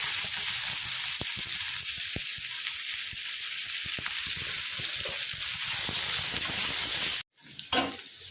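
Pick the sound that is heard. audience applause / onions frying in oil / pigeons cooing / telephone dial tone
onions frying in oil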